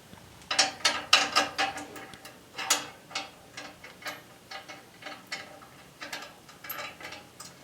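A hand ratchet clicks in short quick bursts while bolts are tightened on a table saw motor mount, with close, crisp repeated ticking runs separated by brief pauses and no talking.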